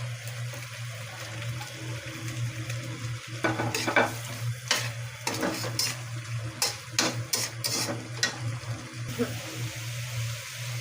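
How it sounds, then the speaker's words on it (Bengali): Shing fish is stirred in a frying pan, with a soft sizzle running underneath and a series of scraping, clattering stir strokes that grow busier toward the middle before settling again. "মাছটা দিয়ে এখন একটু নাড়াচাড়া দিব"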